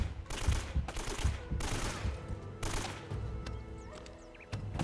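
Bursts of AK rifle fire from the Uncharted: Drake's Fortune video game rattle out loud and close, several sustained volleys separated by brief pauses, with no talking.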